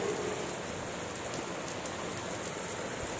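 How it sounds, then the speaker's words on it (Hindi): Heavy rain beginning to pour, a dense, loud, unbroken roar of drops striking surfaces close by, with no talking. "ओ बहुत ज्यादा बारिश स्टार्ट हो गया, देखो."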